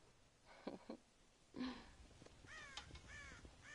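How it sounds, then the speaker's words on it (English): Crows caw in the Red Dead Redemption video game, heard as a few harsh, separate calls and then a run of rougher, layered caws over faint background ambience. "God damn crows!"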